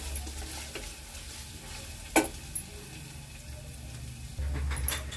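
Onion with ginger and chili-coriander paste sautéing in a pan, a quiet steady sizzle with a single sharp clink of a spoon and faint scraping, a low hum rising near the end.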